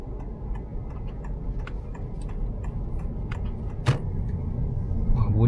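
A 2026 Honda Civic e:HEV hybrid hums steadily from inside the cabin while driving, with faint ticking and a brief thump near the end.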